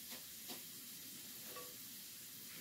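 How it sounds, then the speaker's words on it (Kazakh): Lula kebab frying in hot oil, a faint steady sizzle with a couple of soft stirring clicks near the start and no voices. "Майды қыздырып аз-аздан салып аламыз."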